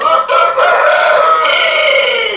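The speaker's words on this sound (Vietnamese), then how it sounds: "Mấy con gà nhà vợ của mình á, bình thường không gáy đâu. Mỗi lần mình quay video là nó gáy à." Rooster crowing loudly and close by at a home in Phan Thiet, one long drawn-out call with a brief break near the start, heard alone without talk.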